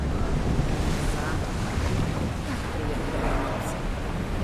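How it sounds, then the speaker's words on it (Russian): Sea waves surge and wash in a continuous broad roar mixed with buffeting wind on the microphone, loud and close, with no clear break between swells. "люблю морские волны"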